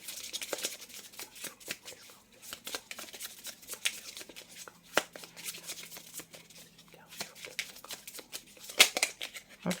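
Tarot cards are shuffled and drawn by hand in a close series of crisp, flicking riffles and snaps, with a voice speaking softly underneath.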